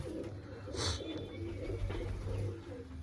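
Pet pigeons coo inside a loft, soft low rolling calls repeating steadily and close by, with a brief brighter flutter or rustle partway through and no talking.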